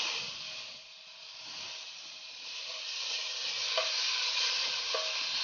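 Pork belly frying in oil to crisp makes a continuous, moderately loud sizzling hiss that swells slightly over time, with a couple of faint clicks and no voices.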